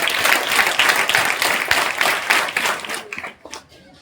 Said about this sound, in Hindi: और एक बार सभी जोरदार ताली बजाएं